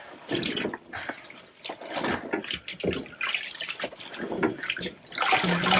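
Avocado-dyed fabric is rinsed by hand in water, giving a steady run of splashing, sloshing and dripping sounds that rise and fall in uneven bursts, close and fairly loud, with no talking.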